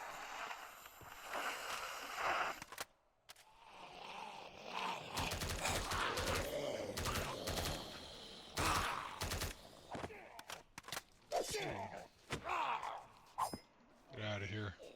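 Bursts of rapid gunfire in the video game Minecraft, a hardcore survival run with a horde attacking, crackle in dense volleys alongside game noise while a player talks over them.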